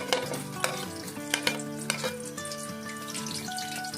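Steady sizzling of onion frying in a pan, with a few soft clinks of a utensil stirring, no voices.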